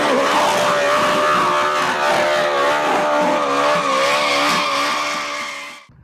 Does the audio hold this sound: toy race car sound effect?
yes